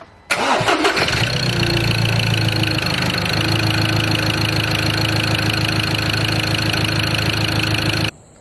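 A diesel engine turns over and catches, then settles into a steady, loud idle that runs for several seconds before cutting off abruptly.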